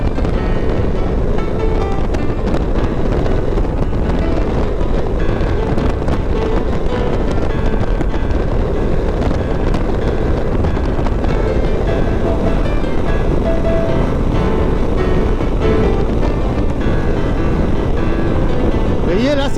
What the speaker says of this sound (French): Il y a à nouveau du vent là, c'est chiant, hein.